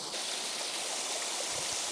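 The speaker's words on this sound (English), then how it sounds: "You may be wondering why I'm standing in a river in December with cold water washing around my feet." Cold river water in December rushing and washing around a person's feet as they stand in the stream, a steady close broadband gush with no pauses.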